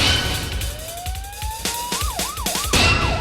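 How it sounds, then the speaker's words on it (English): An emergency siren sound effect, a rising wail that climbs steadily and then breaks into a fast up-and-down yelp, loud and alone with no talk. "we need sirens or something like that"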